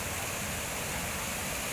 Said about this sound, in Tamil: மண் அரிப்பு போயிருக்கு, தண்ணி போகுது